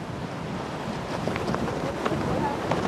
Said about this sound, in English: this is really windy out here on this little point